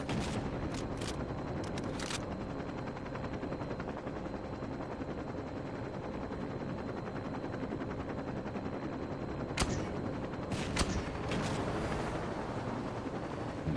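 Grenade launcher fire in the Saints Row 2 video game: a few sharp blasts near the start and again around the ten-second mark, set against a dense, continuous roar of game noise.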